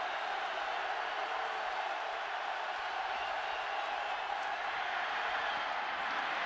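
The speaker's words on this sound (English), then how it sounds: "The crowd picks up the roar on 3rd and 5." A football stadium crowd at the 2008 Packers versus Colts game holds a steady, unbroken roar on third down, dense and even, heard as a wall of noise from a distance.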